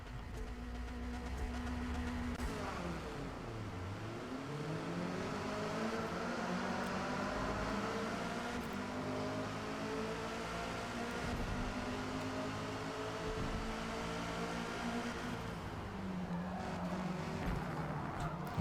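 Multiple race car engines roaring together at the start of an online multiplayer race in Forza Motorsport 8 at Hakone, with steady loud droning and rising and falling pitch sweeps as cars accelerate and shift, and no voices.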